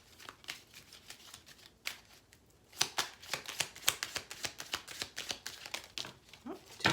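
A tarot deck is handled as cards are shuffled and drawn, producing a run of crisp, close card flicks and snaps in irregular bursts, faint at first and then busier and louder, with no talk.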